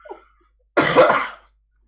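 A single sharp cough up close from a sick person, one short harsh burst after a faint breathy sound, then silence.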